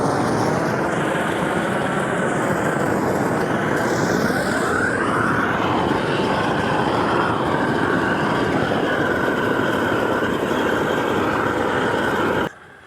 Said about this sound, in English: So if you run the torch over it, it almost instantly dries, gets the metal nice and heated up